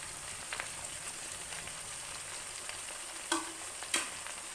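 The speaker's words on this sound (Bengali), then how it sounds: "এবার দিয়ে দিচ্ছি এতে একে একে এই লাউ শাকটা দিয়ে দেবো।" Bottle gourd greens and cabbage leaves fry in a pan with a faint, steady sizzle, broken by two brief louder crackles near the end.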